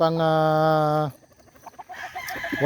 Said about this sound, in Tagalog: ito ay ang tandang po natin na dadalhin doon